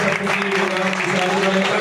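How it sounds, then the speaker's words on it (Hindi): Loud applause for a young boy who has just recited Rashmirathi at an event in Barwani, a dense burst of clapping spread over a steady tonal hum, with no break throughout. "जोरदार तालियां इस बालक के लिए"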